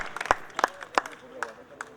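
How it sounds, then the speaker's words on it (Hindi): An audience at a Hindi kavi sammelan poetry gathering claps in sparse, scattered bursts, a few distinct sharp claps spaced out over a low murmur of the crowd. "वही तालियां एक बार इन दोनों महापुरुषों के सम्मान में बजाइए"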